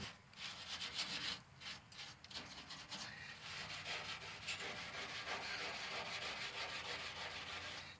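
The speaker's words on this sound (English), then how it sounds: "Real coarse steel wool." Coarse steel wool rubbed hard across the tailgate of a 1977 GMC truck, a close, loud, continuous scratchy abrasion in steady back-and-forth strokes with no talk.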